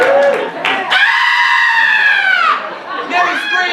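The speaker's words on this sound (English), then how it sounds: "Mary screams." A woman's high, drawn-out scream rises out of a lively scene, loud and close, with a shorter cry following near the end, amid brief crowd-like chatter.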